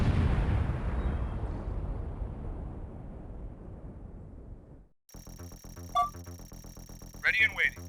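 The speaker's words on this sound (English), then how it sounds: "Nope, that's a grenade. Y'all been grenaded." A grenade blast in a strategy video game: a loud, broad explosion with a long rumbling decay fading over about five seconds, followed by quieter game sounds and brief voice lines.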